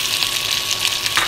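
Chopped onions sizzle loudly in hot coconut oil with curry leaves while a beef varattiyathu is being made, a dense, continuous frying hiss close up.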